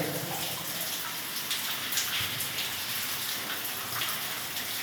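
Water trickles and drips inside Cueva Hoyuca, a cave, giving a steady hissing wash with scattered splashy drops, fairly faint and continuous, with no voices.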